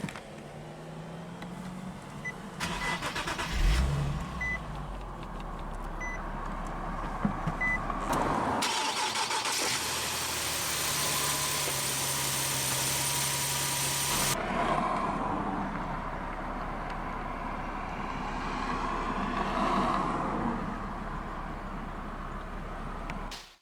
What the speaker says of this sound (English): let's go ahead and start up that VQ